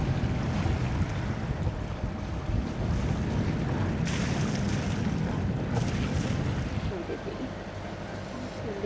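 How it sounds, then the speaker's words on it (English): A light sea breeze buffets a sailboat out at sea, with steady wind rumble against the microphone, water washing around the hull and faint creaks, loud and continuous, easing slightly near the end. "I feel like we're starting to get a bit of a breeze"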